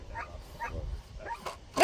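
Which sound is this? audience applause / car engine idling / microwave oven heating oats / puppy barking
puppy barking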